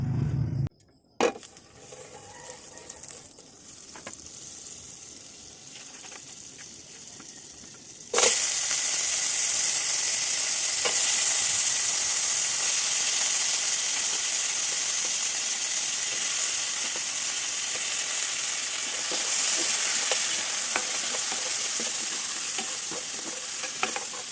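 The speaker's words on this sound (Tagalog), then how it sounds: "So sa isang pan, maglalagay lang tayo ng kunting cooking oil" Cooking oil heats and fries in a pan, a steady hiss that jumps abruptly louder partway through and then holds as a dense, continuous sizzle with occasional stirring scrapes.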